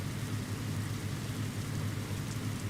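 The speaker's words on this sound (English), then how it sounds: "we're just waiting out the rain, I'm guessing, at this point." Steady rain hiss in a racing video game during a Richmond 175 stock car race, broadband and constant with a low rumble underneath, loud and continuous with no talk.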